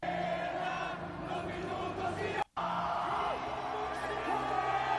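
Dense, roaring arena crowd at AEW Grand Slam Mexico, a live wrestling event, cheering and yelling continuously at high volume, broken by a brief cut of silence midway before the roar resumes just as loud.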